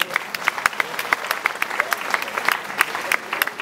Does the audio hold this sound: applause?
yes